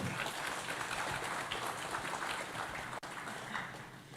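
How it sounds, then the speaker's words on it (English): A crowd claps steadily at a business forum in Timor-Leste in a dense, sustained round of applause that carries on without pause and tapers slightly at the end. "let's give another round of applause, Mr. Simon Flimbu-Hope."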